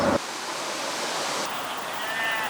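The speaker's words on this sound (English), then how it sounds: "And the River Dee flows on." The River Dee rushes past in a broad, steady wash of flowing water, close and constant, briefly preceded by a short burst of another sound at the very start.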